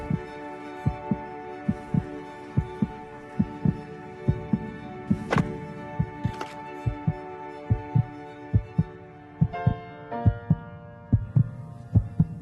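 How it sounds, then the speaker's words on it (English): Children's heartbeats set into a song: soft, rhythmic double thumps repeat steadily at close range beneath sustained musical tones and chords. "This song was created with heartbeats of children in need."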